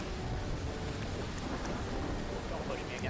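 Heavy rain and rolling thunder from a storm in the game Crumble, a dense continuous wash of noise with no speech.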